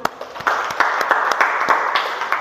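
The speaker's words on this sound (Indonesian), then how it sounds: "Oke, pertanyaan bagus, tepuk tangan dulu." Classroom students clapping after a good question, a lively patter of many hands with sharp individual claps standing out, close and continuous for a couple of seconds, with no talking over it.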